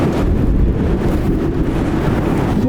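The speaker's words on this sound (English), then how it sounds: "It's so freaking windy too." Strong storm wind buffets the microphone in a dense, steady roar of low rumble for a few seconds, with no voices.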